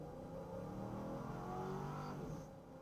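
Pickup truck accelerating hard toward 60 mph, a steady rising engine drone with climbing tonal harmonics heard from inside the cab, easing slightly at the end.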